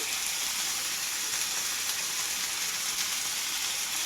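Ground turmeric sizzling in hot cooking oil as it is stirred in a pan for a Bengali vine spinach seed vegetable dish, a steady dense hiss running evenly throughout with no voices.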